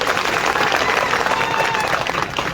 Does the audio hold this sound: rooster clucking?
no